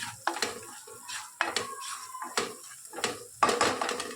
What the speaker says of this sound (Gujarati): સરસ મસાલો શેકાઈ ગયો છે